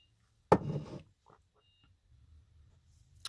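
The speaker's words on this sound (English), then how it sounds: "I had to go shut her alarm off" A household alarm gives one sharp, loud electronic beep that tails off quickly, followed by quiet room tone and a faint second chirp at the end.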